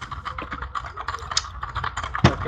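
Rapid, close computer keyboard typing runs steadily throughout, with uneven clusters of crisp key clicks and one sharper, louder keystroke near the end.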